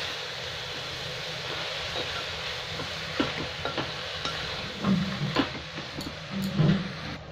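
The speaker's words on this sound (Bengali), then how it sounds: "ভালো করে সবজিটা মিক্স করে নিয়েছি" Vegetables, including cauliflower, being stirred in a pressure cooker pan for a Bengali ghanto, with a soft steady sizzle and irregular scraping and clinking strokes that grow louder toward the end.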